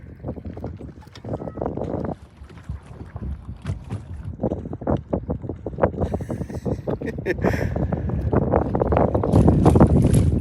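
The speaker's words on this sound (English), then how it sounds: "I know you all can hear the wind, that's for sure." Steady wind rushes and buffets across open water at Reelfoot Lake, rumbling low and growing stronger toward the end, with no talking.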